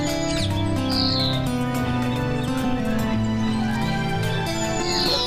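Assorted birds chirp and call in a large royal garden beside a palace, short tweets scattered over a steady bed of music with low tones throughout.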